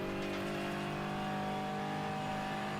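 A GT4 race car in iRacing gives a steady, bassy engine growl at constant loud level, a continuous droning tone with no gear changes or voices over the short stretch.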